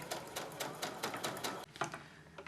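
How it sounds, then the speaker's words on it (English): Sewing machine stitching around the outside of a small Japanese-style fabric bag, a steady close rapid mechanical chatter with a brief hitch partway through and no talk. "sew round the whole of the outside, carefully going round the shape"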